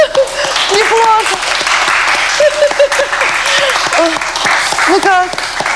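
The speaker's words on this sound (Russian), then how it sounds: "Давайте аплодисменты Наде, пожалуйста, в студии." Studio audience applause on a talk show, steady clapping running under music with sustained melodic tones riding over it.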